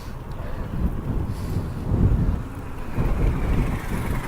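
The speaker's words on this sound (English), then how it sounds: "there's a pretty good wind blowing in here" Strong wind buffets the microphone at the town marina in Guilford, Connecticut, a steady low roar rising and falling in gusts with no talk.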